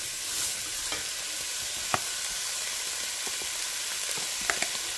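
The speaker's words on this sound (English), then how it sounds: "We're going to stir this here frequently, and we're going to let this cook for about 6 to 8 minutes" Minestrone vegetables with tomato paste and a pinch of salt sizzle steadily in a pot, a bright even hiss with occasional small pops and light stirring clicks, no voices.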